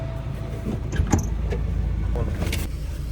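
A Suzuki Samurai's swapped-in 1.6L 16-valve engine rumbles low and steady from inside the vehicle while driving, with faint clicks and rustles on top and no one talking.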